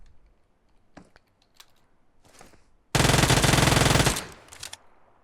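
Automatic gunfire from PUBG Mobile bursts out in a loud, rapid stream lasting about a second, with a few scattered clicks and shots before and after.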